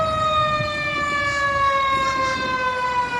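A fire truck siren wails loud and steady, its tone gliding slowly downward with strong harmonics, over low street rumble and no speech.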